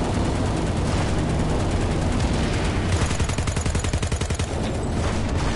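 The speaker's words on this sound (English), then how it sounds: "He's shooting!" Dense, continuous gunfire from the Planetside 2 video game on PS4 fills the scene. Rapid bursts overlap into a loud, relentless barrage that turns into a distinctly pulsing automatic rattle toward the end.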